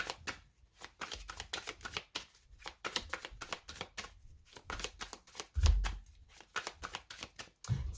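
Tarot cards being shuffled and cut by hand, with rapid repeated riffling bursts separated by short pauses, close and fairly quiet, plus a few soft taps as the deck is squared.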